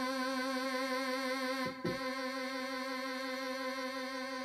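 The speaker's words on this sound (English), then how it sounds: "if you push the modulation joystick up like that and press modulation hold" Yamaha Genos keyboard holding a sustained tone with modulation hold engaged, giving a steady wavering vibrato on every partial, with a brief bump near the middle; fairly quiet and alone, no talking.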